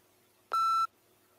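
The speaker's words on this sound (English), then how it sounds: "Begin speaking after the beep." A single short electronic beep sounds once, clean and loud, marking the start of the speaking response in a TOEFL practice test, with quiet before and after.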